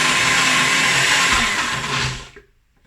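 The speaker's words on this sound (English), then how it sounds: "this is my NutriBullet. You could use a Vitamix as well, any kind of blender like that." A NutriBullet blender whirs loudly and steadily while blending dates and water into a smooth caramel paste, then winds down and cuts off near the end.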